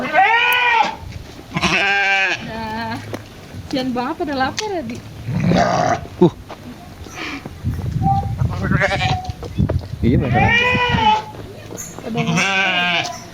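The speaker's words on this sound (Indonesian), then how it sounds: "Ada kambing." Goats bleat loudly and repeatedly nearby at a park in Puncak, Cianjur, wavering cries overlapping with people chatting throughout.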